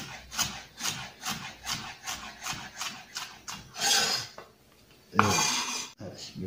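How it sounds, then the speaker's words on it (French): A knife cuts a bell pepper into very thin slices on a board, giving quick, rhythmic rasping strokes close up, then a couple of louder scrapes and knocks. "Et on coupera le plus fin possible le poivron."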